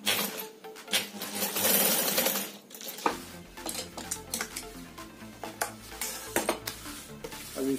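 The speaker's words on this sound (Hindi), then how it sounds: "यहाँ पे थोड़ी सी सिलाई मार के इसको जोड़ लेंगे" Sewing machine stitching a cloth shopping bag, a loud whirring run that stops around midway, followed by scattered clicks and handling noises, no talk.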